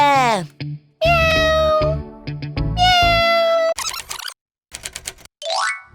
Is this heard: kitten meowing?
yes